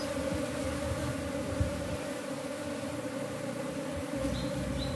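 A swarm of Apis cerana honey bees buzzes steadily in a continuous, close drone while being moved into a wooden cultivation hive box, with no talking.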